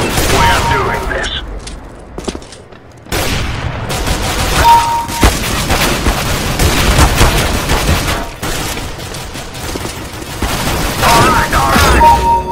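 Rapid gunfire from the video game Counter-Strike (CSGO), loud, dense bursts of shots across the whole stretch, with a brief lull early on and players talking over the action.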